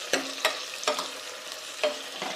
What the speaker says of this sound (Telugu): వీటిని అన్నింటినీ బాగా మిక్స్ చేసుకుందాము.